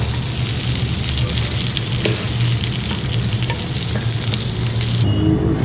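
Boneless chicken frying in a pan, a loud steady sizzle and crackle close up, continuous throughout with faint stirring scrapes and no talk.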